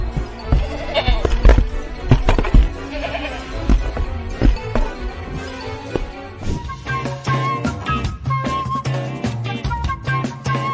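A goat bleats several times in irregular bursts, fairly close, with some clattering and background noise between the calls.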